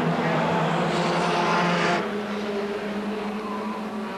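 Touring race cars, a Ford Sierra Cosworth and a BMW, from the 1990 British Touring Car Championship, pass close by in a loud, sustained engine roar that swells and then drops away as they head toward a right-hand corner.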